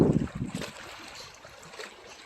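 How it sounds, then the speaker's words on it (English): Wind-driven waves lap against a lake shore, a steady washing rush with a heavier surge at the start that eases into a softer continuous wash. "It is a little bit windy out right now. You can hear the waves hitting the shore."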